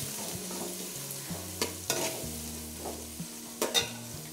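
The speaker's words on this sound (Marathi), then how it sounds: "आता कांदा व्यवस्थित असा परतून घ्यायचा आहे।" Chopped onion sautéed with cumin in a hot pan on high heat, a steady sizzle with clinking stirring scrapes and soft knocks, close and unaccompanied by speech.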